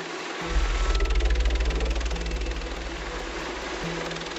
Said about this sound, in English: The Globus MTG chipper uses an industrial blade drum to process wood waste